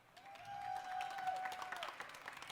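An audience applauds as a startup team is welcomed onto the stage at a startup competition final: steady, fairly even clapping for a couple of seconds, with a sustained tone running through it.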